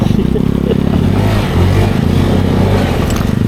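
A motorcycle ridden at night in the rainy season on the way to a campsite in Daraitan, Tanay, Rizal, its engine droning loud and close with steady rumble and some rattling, continuous for a few seconds.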